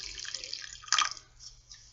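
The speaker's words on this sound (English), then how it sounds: "I better rinse out my cup" Water splashes and drips close by while a tea cup is rinsed at a sink, with a brief louder burst of running water midway and faint trickling before and after.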